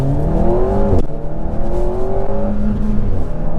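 Alpine A110 252 hp sports car engine heard from inside the cabin, a loud steady drone with rising and falling revs and a brief shift blip midway.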